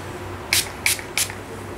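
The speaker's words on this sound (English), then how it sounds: "I like to use my Keratin Mist hairspray" Keratin Mist hairspray is sprayed onto hair being treated before curling, three short, close hissing bursts evenly spaced about a third of a second apart against a quiet background.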